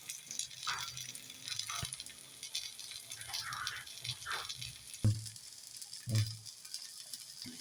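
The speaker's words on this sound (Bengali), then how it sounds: "এক পাশ ফ্রাই হয়ে গেছে। এবার এটা আমি উল্টে দিলাম। উল্টে আমি একটুখানি তেল দিয়ে দেবো" Pancake frying in oil in a pan after being flipped, a soft steady sizzle with patter and a couple of louder low thumps near the end; a voice speaks briefly and faintly.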